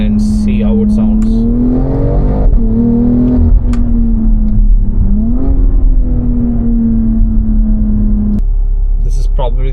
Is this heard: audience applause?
no